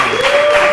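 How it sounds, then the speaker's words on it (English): A live audience at a San Diego Comic-Con panel applauds the panelists, a dense, steady burst of clapping that holds at full strength through the short moment, with no voices rising above it. "round of applause for these panelists, please?"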